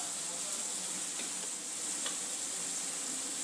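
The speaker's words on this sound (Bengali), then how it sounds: "মশলাটা ভালো করে মিক্স করে নেব" Ground cumin, coriander, turmeric and chilli powders are stirred in a frying pan, giving a continuous close sizzle with soft scraping strokes of the spoon.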